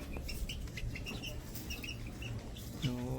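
Young Raptor Sweater and Gilmore Hatch chickens, one and two months old, clucking and peeping in a simple breeding pen, a scatter of short calls close by over a steady low background hum.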